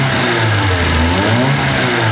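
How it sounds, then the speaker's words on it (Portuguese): A car engine revved under throttle during engine diagnostics in a workshop, a loud, steady, close mechanical drone with strong low harmonics holding for a couple of seconds. "Vamos dar uma aceleradinha para ver para quanto ele vai?"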